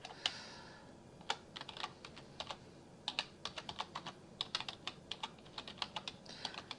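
Rapid keystrokes on a computer keyboard while typing a search into a browser, a close, crisp run of uneven clicks in short bursts with brief pauses, no voices.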